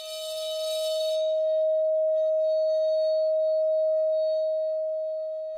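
A steady, clear pure tone at 629 Hz produced by metal scraping on a vinyl record with a hand-held object, holding one pitch for several seconds with a brief noisy scrape at the start and faint hiss beneath.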